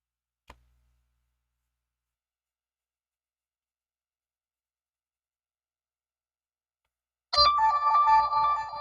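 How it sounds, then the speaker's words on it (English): A phone rings suddenly after a long near-silent stretch with one faint click, the electronic ringtone loud and sustained with steady tonal bursts. "I'm gonna turn that phone off."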